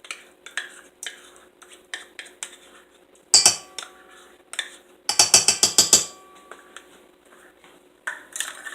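Spoon scraping and clinking in a bowl while donut batter with vanilla yogurt is mixed, uneven strokes with a couple of louder bursts of rapid stirring, close up and without talk.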